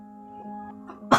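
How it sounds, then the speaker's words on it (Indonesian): A single sharp sneeze bursts out at the very end, loud and close, after a moment of steady low electrical hum. "Sorry, bersin."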